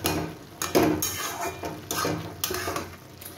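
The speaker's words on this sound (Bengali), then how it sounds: "লাউটা আমি খুলে দেখিয়ে দিচ্ছি লাউটা থেকে কতটা জল বেরিয়েছে" A pot of bottle gourd cooking in its own released water has its lid lifted, giving a few close metallic clatters and scrapes of lid against pot, with a faint simmer in between.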